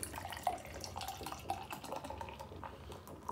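A beer poured hard from an 8.5% can of Other Half Brewing All Mosaic Everything, a single-hopped double New England IPA, into a washed glass: a steady close splashing, gurgling pour with foam building, heard alone.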